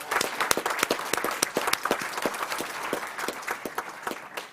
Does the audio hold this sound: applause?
yes